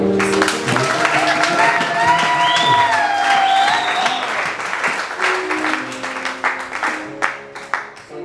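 A church congregation at a French-language worship service applauds and cheers in praise, with loud sustained clapping that fades toward the end while sustained musical tones play underneath.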